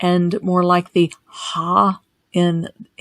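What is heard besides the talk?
None of the usual background noises is heard.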